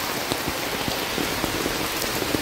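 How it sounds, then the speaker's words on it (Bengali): A heavy monsoon downpour in Ranaghat pours down in a thick, constant roar, with scattered louder drops and patters striking nearby surfaces and no talking. "মুষলধারে বৃষ্টি নেমেছে"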